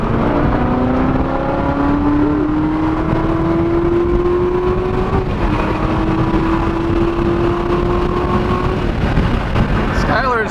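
A 2016 Chevrolet Corvette Z06 engine holds a steady, rising drone from inside the car, climbing gradually in pitch, dipping briefly midway, then easing off near the end, loud and continuous.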